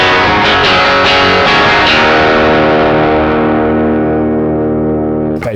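Electric guitar runs through a NUX 63 Diamond amp on its top boost channel, giving bright, heavily driven tones. A few quick picked notes lead into a sustained, ringing chord that slowly decays, with a short noise at the very end.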